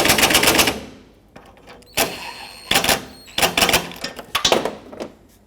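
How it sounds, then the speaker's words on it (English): Ratcheting bursts while the top bolt of a car AC condenser is tightened on a 1998-2005 Lexus GS300, a loud clicking run followed by several shorter separate bursts with pauses between, close by. "then we'll start the top bolt in. Make these nice and snug."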